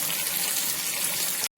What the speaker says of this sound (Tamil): பாருங்க, நல்லா தண்ணி கொதிக்குது